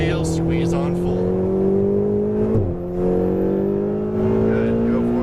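Lamborghini Huracan Performante at full throttle on a Las Vegas track, a loud, close engine roar with rising harmonic tones, a brief dip mid-pull, under an instructor's voice.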